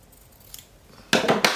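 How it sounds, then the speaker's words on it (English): Scissors snip through folded paper while a handmade book cover and signatures are assembled: about three crisp, close cuts in quick succession, preceded by faint handling sounds. "So I need to fold it in half and cut it like that."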